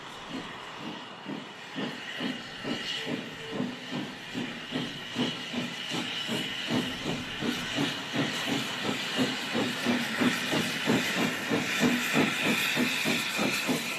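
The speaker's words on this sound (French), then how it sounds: "Nous quittons Waterford confortablement installés au bar du train à vapeur, spécialement affrété pour ces amoureux du chemin de fer." Chartered steam train departing Waterford in Ireland, rhythmic chuffing hisses of steam repeating at a steadily quickening pace, moderately close and gradually building in loudness.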